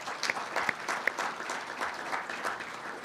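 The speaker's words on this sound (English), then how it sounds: "But let's give them a round of applause." An audience at a 2011 economic forecast event applauding sponsors, a steady, even clatter of many hands clapping throughout, fairly close and full, with no talk over it.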